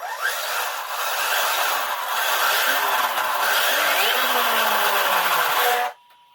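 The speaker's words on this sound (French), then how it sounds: "Voilà le bruit du freinage, c'est ça." Braking whine from a Team Associated SR7 RC car with a Castle ESC: a loud, steady electronic hiss-whir, with faint descending tones underneath, running continuously for about six seconds before it cuts off abruptly into near silence.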